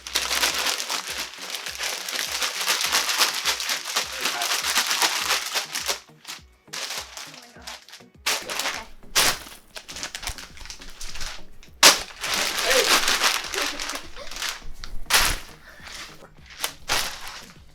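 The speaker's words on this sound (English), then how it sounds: "So now we gotta shake this up like crazy. Get the salt and ice mixture mixed up together with the ice cream mixture" A bag of ice cream mixture packed in salt and ice is shaken hard: a continuous, rhythmic crunching rattle of ice, close and loud, broken by brief pauses and then resuming.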